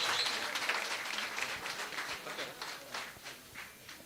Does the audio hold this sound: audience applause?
yes